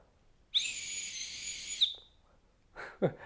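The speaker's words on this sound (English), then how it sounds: "I can blow into a whistle a whole lot longer than I could yell for help" A loud, steady high-pitched blast on a backpacking emergency whistle held for over a second, followed by a short pause and a couple of brief breathy sounds.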